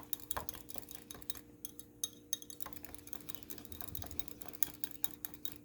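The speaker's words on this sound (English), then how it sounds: "Mix them up." Italian beef sandwich ingredients with Himalayan pink salt being mixed in a bowl, with soft scraping and light clinks of a utensil against the dish repeating steadily at close range, no talking.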